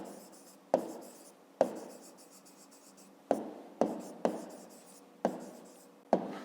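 A pen writes on paper while a fifth-grade maths exercise on angles is worked out, with scratchy strokes broken by sharp taps as the pen comes down about seven times, close and fairly quiet, with no voices.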